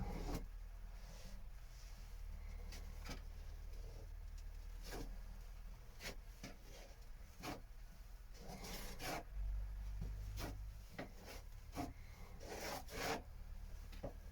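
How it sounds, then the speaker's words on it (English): A steady scraping and rubbing of a tool spreading filler into holes and levelling it across a wooden surface on a boat, with repeated strokes and sharper rasps, close up and alone. "I'll just smear a little over the top, level that out."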